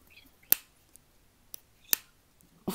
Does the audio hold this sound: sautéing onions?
no